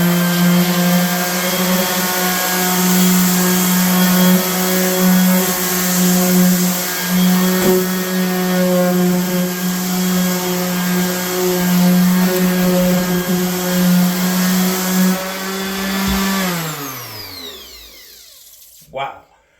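A Milwaukee corded sander runs at full speed with a loud, steady motor whine and hum, holding an even pitch for about sixteen seconds before winding down as it is switched off, ending in a brief clunk.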